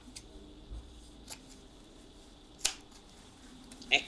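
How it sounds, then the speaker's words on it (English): Scissors cut back fabric seam allowances on a sewn vest, making a few brief, quiet snips and clicks spaced apart against a quiet room. "Cut back your seam allowances."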